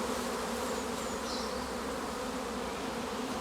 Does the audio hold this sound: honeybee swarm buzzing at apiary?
yes